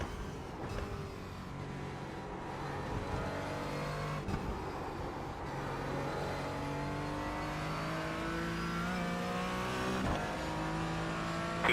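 Several NASCAR Gen 4 race cars lap the Dover track in a racing video game, their engines droning steadily with rising and falling pitch sweeps as cars pass and shift, a continuous loud engine roar with no talking.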